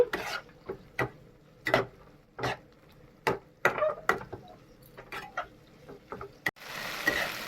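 A utensil stirring chopped tomato into frying spices in a pan for Bengali bhola fish curry with potato and eggplant: repeated scraping knocks at an uneven rhythm, close and crisp, followed by a soft sizzle.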